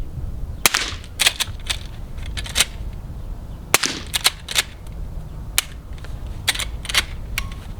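Suppressed .38 Special gunshots through an Odin Works Enduro suppressor, a dozen or so sharp muffled cracks fired at an irregular pace over a steady outdoor background.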